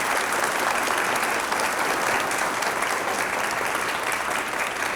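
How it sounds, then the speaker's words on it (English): An audience at Fond du Lac Tribal & Community College gives a round of applause for Tara Houska, dense sustained clapping from a full room, loud and even throughout with no talking. "if we could just give one more round of applause for Tara"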